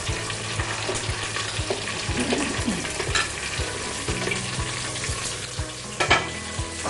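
Onions and mixed vegetables sizzle and fry in a pan on a gas stove in a home kitchen, with a spoon scraping and stirring at a steady rhythm, close and fairly loud throughout with no voices.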